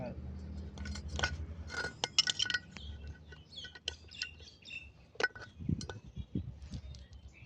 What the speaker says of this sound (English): that, ladies and gentlemen, was a demonstration on how to remove valve stems